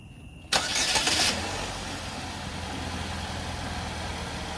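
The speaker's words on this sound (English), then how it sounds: "Now we're going to give it a start and see what she sounds like." A 2011-2013 Chevy Malibu 2.5 with a freshly replaced VVT solenoid cranks and fires in a loud, close burst, then settles into a steady, smooth idle hum that carries on alone to the end.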